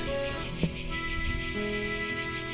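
Cicadas in an olive grove along terraced hills on the Italian Riviera on a hot summer day, a steady high buzzing chorus pulsing in regular waves throughout, with faint low background sounds and no talking.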